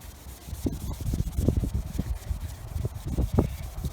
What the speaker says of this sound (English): Just gonna go back and forth and clean that spot.